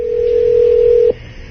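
Steady telephone dial tone on a radio show's call-in line, a single loud continuous hum about a second long that cuts off abruptly, leaving a faint background hiss.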